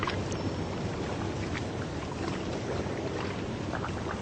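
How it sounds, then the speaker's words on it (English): Steady water washes and laps near a park bench, a continuous outdoor wash with soft rushing texture and small splashes, no talking. "sound of the water"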